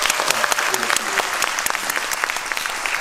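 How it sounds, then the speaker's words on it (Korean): An audience claps at a musical theatre special curtain call as a guitarist is introduced, a lively burst of dense applause with sharp individual claps standing out, close and loud, with a few voices mixed in. "여러분 큰 박수 한번."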